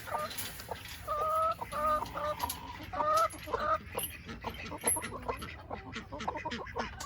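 Chickens cluck and squawk nearby in short, repeated bursts, mixed with other poultry calls over a soft outdoor background.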